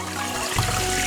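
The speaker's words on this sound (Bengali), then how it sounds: "কড়াইতে এবার জল দিয়ে দেব।" Water poured into a wok of frying lentils, a steady trickling splash that swells partway through, loud and close with no talk.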